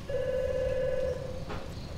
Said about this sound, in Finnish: Puhelin soi.